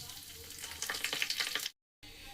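Black cumin seeds and small bay leaves sizzle loudly in hot oil, a bright crackling hiss that swells and pops densely before cutting off abruptly, then resuming as a steadier sizzle.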